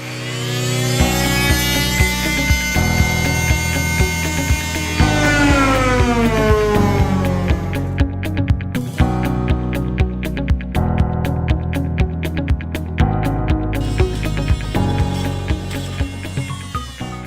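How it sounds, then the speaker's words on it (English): A Dremel rotary tool cuts a notch for a hidden countertop support bracket on a kitchen island, its loud high-pitched whine running continuously at close range, rising and dipping in pitch as the load changes. "So I've got my old handy dandy Dremel tool here. Let's get it cut out."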